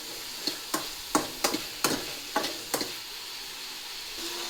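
Onion, tomato and green chilli frying in a little oil in a pan, with a faint sizzle under a series of sharp spatula scrapes and knocks as the mix is stirred, about nine strokes in irregular rhythm.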